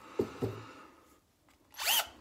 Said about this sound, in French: c'est de faire quelques essais de vissage déjà, avant de faire le perçage.